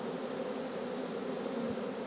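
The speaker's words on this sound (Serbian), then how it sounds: "Pčela se kupi nazad u košnicu." Honeybees buzz around a beehive at season's end, a continuous dense drone of many wings, faint and steady with no voices.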